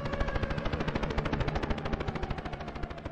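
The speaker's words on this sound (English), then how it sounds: "Somebody's shooting at something. Gunshots?" Rapid automatic gunfire from the video game Tempus Triad, a steady loud stream of closely spaced shots running continuously without pause.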